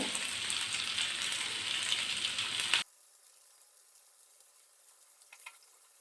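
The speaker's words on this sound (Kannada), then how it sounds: "ಎರಡೂ ಕಡೆ ಚೆನ್ನಾಗಿ ಕೆಂಪು ಆಗೋಂಗೆ ಫ್ರೈ ಮಾಡ್ಕೊಳ್ಬೇಕು" Chicken tikka pieces frying in a pan over low heat: a loud, steady sizzle fills the first three seconds, then the sound drops abruptly to near silence with faint, sparse crackles.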